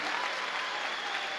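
Congregation applause during a Sunday morning church service: a dense, steady wash of clapping from many hands, loud and unbroken for the whole short stretch.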